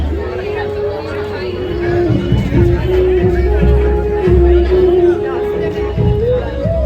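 Steady crowd babble fills a decorated Ganpati temple, a dense hum of many voices with one louder voice speaking close by.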